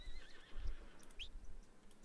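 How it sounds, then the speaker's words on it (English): A horse whinnies faintly in Red Dead Redemption 2, a thin high neigh over a quiet outdoor background with soft low thumps, distant and alone. "I heard a horse."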